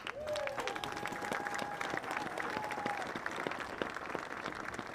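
A crowd at a Thanksgiving morning high school football game applauds veterans and military personnel, a steady bed of many hands clapping with scattered sharp claps and a whistle or two across several seconds.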